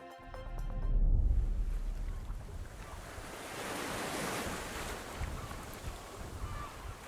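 Sea waves on the Black Sea heard from a ship's deck, a steady rushing wash of water with heavy wind buffeting the microphone, swelling early and then rolling on continuously, no talking.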